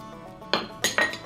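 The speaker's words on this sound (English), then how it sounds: "Gonna toss in our tomatoes." Tomatoes are tossed into a guacamole bowl, giving three sharp, close clinks and clatters in quick succession against a quiet background.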